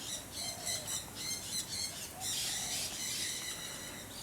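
Many birds squawk and chirp continuously in a free-flight aviary at KL Bird Park, a dense, fairly close chorus of overlapping calls with no talking.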